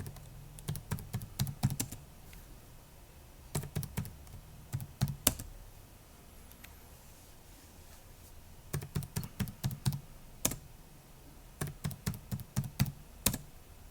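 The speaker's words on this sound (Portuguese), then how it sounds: "Vou digitar aqui a senha dele." Bursts of typing on a computer keyboard as a password is entered into a terminal, quick clusters of keystrokes separated by pauses, fairly close and clear against a quiet background with no talking.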